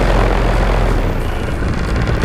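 A paramotor engine runs steadily at 4,000 RPM during its initial break-in, a loud, close, continuous propeller drone with a rough, throbbing low end and no talking.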